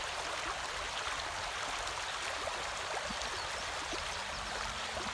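Creek water flows in a steady, full rush with a bright splashing hiss, constant and close, with no voices over it.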